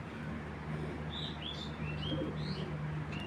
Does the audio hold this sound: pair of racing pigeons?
yes